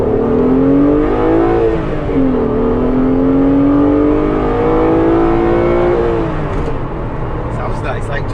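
A Renault Clio V6 Mk2 with the engine mounted behind the seats starts and runs, a loud, close, droning engine note that rises and dips slightly through the revs before settling.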